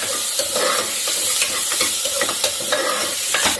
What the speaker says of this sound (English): So we'll put the chopped onion. Put the onion till the onion turn brown in color.